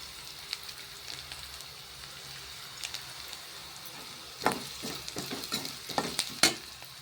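Cumin seeds hit hot oil in a pan for mango dal masiyal. A soft steady sizzle suddenly bursts into a close cluster of sharp crackles and pops.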